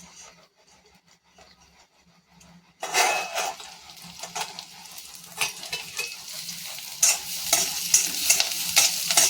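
Sabudana khichdi roasting in a pan with green chillies, a dense sizzle and scraping stir that starts suddenly after a quiet opening and keeps going steadily, loud and close, with clinks of a utensil against the pan.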